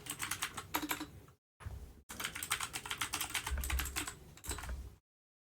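Rapid clacking on a computer keyboard, close and clear, in bursts of quick keystrokes with a few short silent pauses between them.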